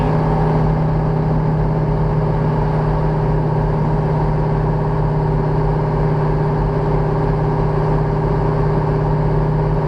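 Truck engine drones steadily as it speeds up on a highway where the truck limit is lifted, a continuous loud low hum with road rumble and no pauses.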